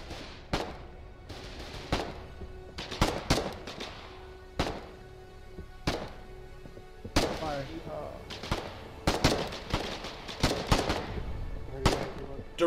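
Artillery guns firing in the war game Foxhole, a string of sharp booming blasts spaced irregularly, some near and loud, others softer, with people talking between the shots.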